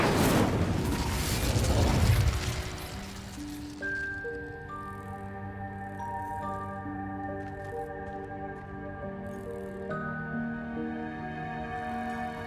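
An Incendio fire spell bursts out in Hogwarts Legacy with a loud, roaring whoosh that lasts about two seconds, then fades into sustained, ringing musical tones that layer and shift.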